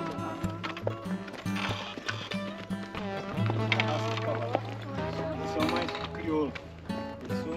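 Horse hooves clip-clop rhythmically during a farm horseback ride in rural Minas Gerais, Brazil, the steady beats mixed with music and voices throughout.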